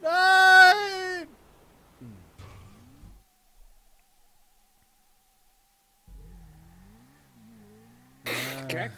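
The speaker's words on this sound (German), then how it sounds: "Katze ist auch da." A cat meows in GTA 5 Online, a loud drawn-out call at the start and another at the end, with quieter game sounds and brief murmurs in between.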